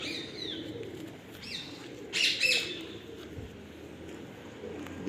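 Pigeons coo and chirp close by at a loft, with soft burbling calls and a brief flutter rising over a constant background hum.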